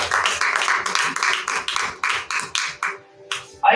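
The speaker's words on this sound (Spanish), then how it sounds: "Dale palmas al Señor." Church congregation clapping hands in quick rhythmic bursts, loud and close, with voices mixed under the claps and a brief lull near the end.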